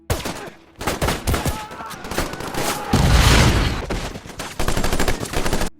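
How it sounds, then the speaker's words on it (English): Heavy gunfire in a nighttime battle scene from the WWII war film Letters from Iwo Jima, with loud, dense bursts of rifle and machine-gun fire and booming blasts rattling on continuously. "resulting in heavy gunfire that claims most of their men and severely wounds him"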